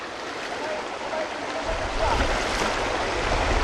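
A waterfall and mountain stream rush steadily as a close, continuous broadband roar of water that swells a little louder partway through, with no talk over it.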